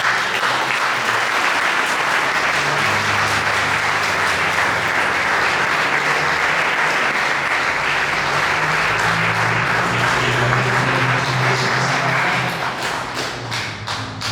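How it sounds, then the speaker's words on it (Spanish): Loud, sustained applause from a large church congregation fills the space, dense and steady throughout before easing slightly at the end. "¿Qué tal si le da un aplauso al Señor?"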